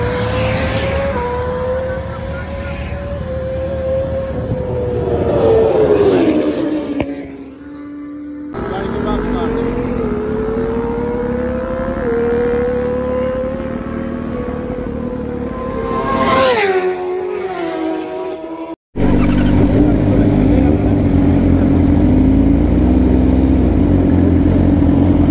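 Sport motorcycles drag racing on a road pass by, engine notes rising through gears and sweeping past with Doppler drops, loud and close, repeated in two runs before a steady idle-like rumble.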